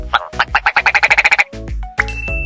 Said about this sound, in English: ptarmigan